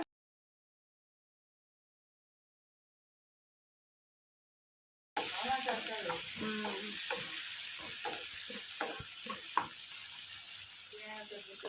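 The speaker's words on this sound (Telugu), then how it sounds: "ఆయిల్ వేసాను తిరగవాతకు వేస్తున్నాను శనగపప్పు కొంచెం తనకి అడుగు కొంచెం జీలకర్ర మిర్చి కొంచెం తెల్లగడ్డ" Chana dal, cumin, chilli and garlic fry in hot oil for a tempering, giving a loud, steady sizzle with crackles and stirring scrapes that starts abruptly after several seconds of silence.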